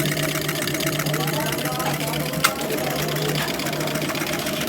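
Automatic coil winding machine winding ceiling fan coils, giving a steady, even mechanical whir with a faint hum, close and continuous at low volume, with one brief click partway through.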